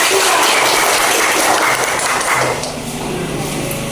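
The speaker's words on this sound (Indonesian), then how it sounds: "beri aplaus kepada kelompok" Clapping from a classroom audience for a student group that has just presented, a dense, steady wash of many hands that thins slightly toward the end, with faint voices underneath.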